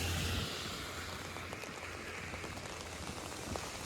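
Steady rain pours during a street walk on Trethewey Drive in North York, Toronto, under an umbrella, a continuous close hiss of drops with faint traffic rumble in the background.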